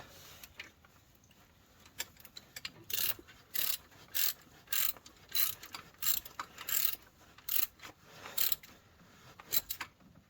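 A hand ratchet clicks in short bursts while tightening the bolts on a newly fitted alternator, quiet and close, with brief pauses between strokes.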